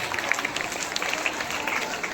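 Audience applause at a school farewell ceremony honoring a teacher, a steady wash of many hands clapping at moderate loudness, continuous throughout with faint voices mixed in.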